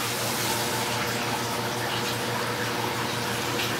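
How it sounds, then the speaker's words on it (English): RO water pours steadily into a bucket, a constant rushing, splashing flow with a low pump-like hum underneath, close and unbroken. "I'm just going to fill this bucket up maybe 3 times"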